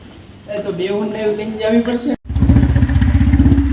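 A Royal Enfield Bullet motorcycle's engine comes in loud and near after a brief pause, a deep, steady thumping idle. A voice talks over the first half.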